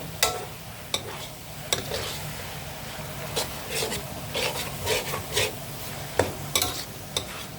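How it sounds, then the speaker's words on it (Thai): Minced pork with sliced chilies stir-fried for a pork and long eggplant dish, with a spatula scraping and tossing in a steady, repeated rhythm over a continuous hiss of frying. "คลุกเคล้าให้เข้ากันนะคะ"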